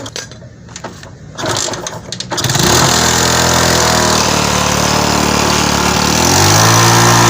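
A Suzuki Sprinter motorcycle engine, after a timing chain repair, catches on a kick start and settles into a steady, loud idle, with a brief scuffle of kicking and handling noise just before it fires.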